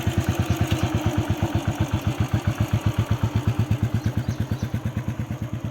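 A Royal Enfield Bullet motorcycle engine runs close by with a loud, steady thumping beat that keeps an even rhythm throughout, heard alone during a Holi birthday outing.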